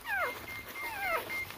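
An American Bully puppy whimpers in two thin, wavering cries with a brief third yelp at the end, close and fairly quiet against a soft background hiss.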